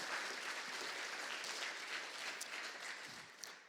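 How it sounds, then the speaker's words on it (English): Steady, dense applause from a conference audience at the PyData Eindhoven 2025 closing session, loud and continuous throughout with no break, a few sharper claps standing out near the end. "Big round of applause for Bright Cape."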